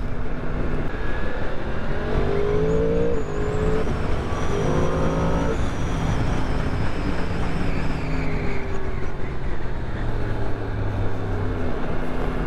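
A 2023 Yamaha MT-10 motorcycle accelerating while overtaking on the road, heard from the rider's position: engine pitch climbing through gears under heavy, constant wind roar, loud and close throughout.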